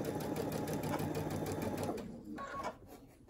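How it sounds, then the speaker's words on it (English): A sewing machine stitches a fully lined fabric scrub cap, running in a steady rapid whir up close, then slowing and stopping near the end with a few softer clicks. "And now I am going to continue sewing all the way to the end of my side piece."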